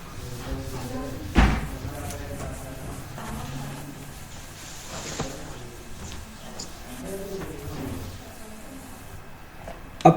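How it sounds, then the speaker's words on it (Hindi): A door slams shut once with a sharp thud early on, followed by quieter household knocks and shuffling, and a second bump at the very end, all heard close by in an indoor room. "मम्मी दरवाजा बंद कर ले।"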